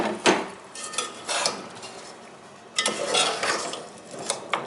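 Spices and mutton being mixed in a cooking pot for degi-style qorma, with scraping and clinking of a spoon against the metal pot in several short bursts, close and fairly clear, no talking.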